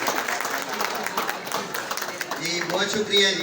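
An audience gives a short round of clapping for Nasir sahib as he hands out trophies at a prize ceremony, loose and moderately loud, while someone speaks over it.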